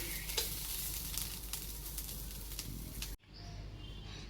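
Ginger and green chilli paste sizzles in a pan with cashews and raisins, a close, steady frying hiss with faint stirring scrapes that cuts off abruptly near the end, leaving a quieter room.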